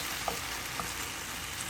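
Food caramelizing in a hot pan gives a steady, faint sizzle and fry hiss, with a couple of soft clicks over the continuous crackle.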